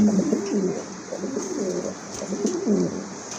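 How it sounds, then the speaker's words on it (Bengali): Pigeons coo in low, throaty phrases at a pigeon sale, repeating at a steady rhythm, close and clear over a constant background hum. "বাবা কবুতর কোয়ালিটি কবুতর ভাই"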